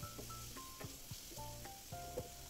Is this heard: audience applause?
no